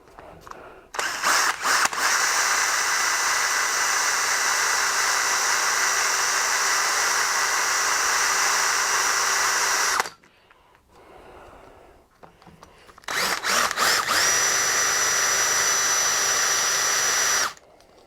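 A power drill bores into a steel wiper linkage stud in two long, steady bursts of loud, high whine, separated by a short quiet pause with faint handling noise.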